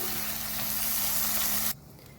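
Brinjal sautés in oil for a pickle, a loud dense sizzle that runs steadily and then cuts off abruptly, leaving only faint background hiss.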